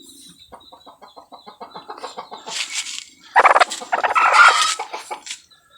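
A chicken squawks and clucks loudly in repeated bursts while its tongue is being worked on by hand, with rapid agitated calls building toward the end.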